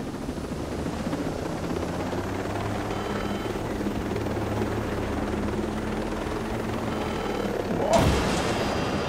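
Helicopter rotor drone from a combat video game, a steady loud chop held throughout, with a sharp crash or explosion bursting in near the end.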